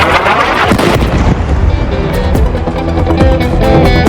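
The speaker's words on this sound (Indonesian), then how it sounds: "Ledakan ini terjadi di Gaza, tepatnya di wilayah Der Al-Balah, Gaza Tengah" Loud, dense rumble of an explosion at refugee tents in Deir al-Balah, central Gaza, a continuous roaring wash of blast and debris noise that fills the whole stretch without letting up, with no voices.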